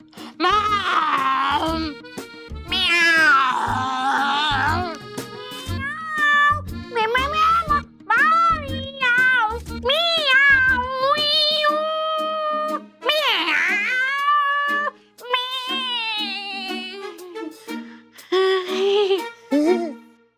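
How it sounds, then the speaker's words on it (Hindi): A cat meows repeatedly in a domestic room, a string of drawn-out, wailing cries rising and falling close by, with voices talking in between. "ये क्या म्याऊ म्याऊ म्याऊ म्याऊ?"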